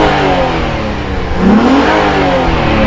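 Nissan 350Z engine revving as a car, a steady loud engine note with one rising blip of revs partway through, alone without talk.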